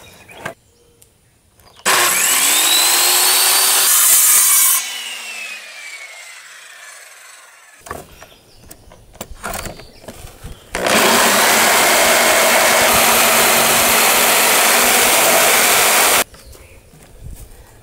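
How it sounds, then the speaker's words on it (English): Circular saw and then jigsaw cutting a curve in wood for a cubby shelf, with two long loud close cutting runs separated by quieter handling and brief knocks. "I'm going to use my circular saw, cut up to about this point, and then use my jigsaw to cut that"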